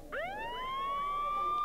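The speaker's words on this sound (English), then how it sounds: "Siren." A game's siren sound cue: a single rising siren wail sweeps upward and then holds a steady high tone, clear and alone throughout.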